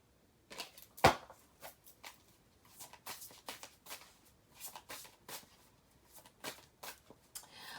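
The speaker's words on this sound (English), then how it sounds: "While I'm shuffling" Playing cards being shuffled by hand indoors, a quiet series of crisp riffling bursts and soft slaps in an irregular rhythm, close and alone.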